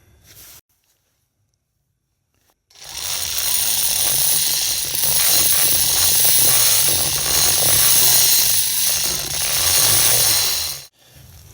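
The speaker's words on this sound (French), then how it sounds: "À la Dremel, je vais y passer un peu de temps." A Dremel rotary tool grinds metal out of an MBK 51 moped's Bidalot cylinder head, a loud continuous high whine running for about eight seconds after a quiet pause, close to the listener.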